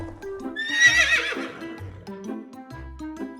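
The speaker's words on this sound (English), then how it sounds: "horse," A horse neighs loudly and clearly, a long rising-and-falling whinny, with other farm animal sounds in the background and no talking.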